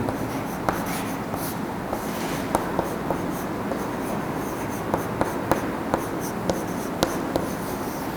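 Chalk or marker scratches across a board during a statistics lesson, with short, regular strokes and sharp taps recurring every half second or so over a quiet room hum.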